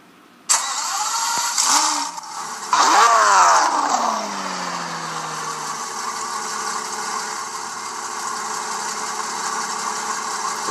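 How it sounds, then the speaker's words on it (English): A powerful NASCAR Sprint Cup engine at Pocono cranks and roars to life, then a second revs up loudly before both settle into a steady, rumbling idle. "Drivers, start them engines."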